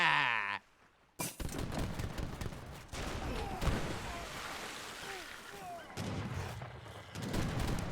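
Heavy cannons and artillery boom repeatedly in a strategy video game battle between Imperial troops and rebels, dense volleys of blasts and gunfire layered with battle noise after a brief quiet gap at the start.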